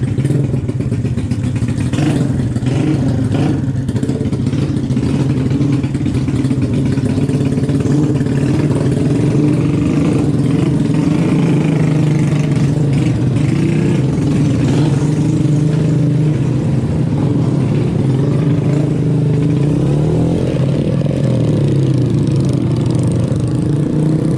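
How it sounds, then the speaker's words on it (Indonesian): Motorcycle used as a rice-paddy grain-hauling taxi, engine running loud and close with a steady mid-pitched drone and mechanical clatter for the whole stretch. "Ini motor saya guys."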